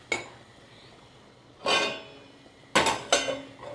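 A metal lid set down on a cooking pot of sev tameta sabzi, giving a sharp clatter, then a second louder clank followed by a quick rattle as it settles, close by with no talking.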